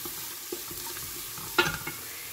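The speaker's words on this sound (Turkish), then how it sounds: "Şimdi kavuruyorum." Food sautés in a pan with salt and Circassian herb, giving a soft, even sizzle with light stirring scrapes and a brief louder clatter of the utensil partway through.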